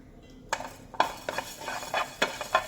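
Spices with coriander seeds and curry leaves being stirred while dry roasting in a pan, with repeated scraping clinks of a spoon against the metal in an uneven rhythm, close and moderately loud.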